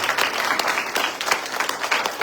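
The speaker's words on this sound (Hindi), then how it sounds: "सब मुझे जोरदार ताली दी जाए।" A church congregation breaks into loud, sustained applause, dense clapping filling the whole moment with no pauses.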